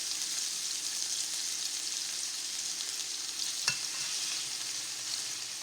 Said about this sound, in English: we're going to cook them on each side for about 3 minutes